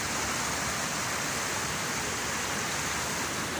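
Strong floodwater rushing across a farm, a steady, loud, dense roar of churning water with no breaks, close and unbroken from start to finish, with no voices.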